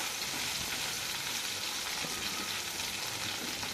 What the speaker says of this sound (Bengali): আলুটাকে আমি খুব ভালো করে ভেজে নেব